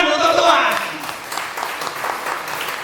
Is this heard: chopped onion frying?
no